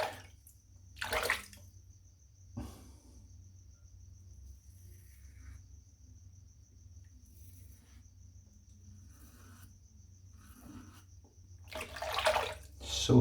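Tap water briefly rinsing a boar shaving brush and razor at a bathroom sink, short splashy bursts at the start, middle and end, with a faint steady high buzz and low hum between.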